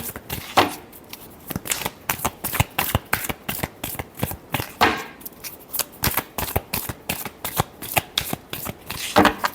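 A deck of tarot cards is shuffled by hand in quick repeated bursts, a close, crisp riffling and slapping rhythm that runs steadily throughout with brief pauses between passes.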